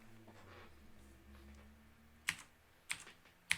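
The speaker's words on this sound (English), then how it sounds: "Sorry if my keyboard is too loud." Three crisp keystrokes on a computer keyboard click near the end, each a quick isolated tap over a faint low hum in an otherwise quiet room.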